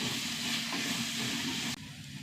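Bitter gourd sautés in a hot pan with a steady, close sizzling hiss that holds for most of the stretch, then drops abruptly to a quieter sizzle near the end.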